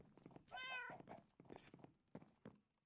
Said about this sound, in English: That was a cat in there